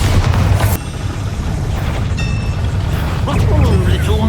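A Bombarda spell detonates in Hogwarts Legacy, loud booming blasts rolling through a dense, continuous wash of game combat noise with no clear pauses.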